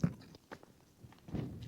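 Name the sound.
crunching dehydrated chicken tikka meal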